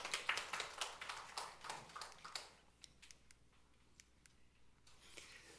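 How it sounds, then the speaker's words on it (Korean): Scattered applause from a small seminar audience in a church, a few seconds of quiet hand claps that thin out and fade to sparse taps. "우리 김영순 고사님께 박수."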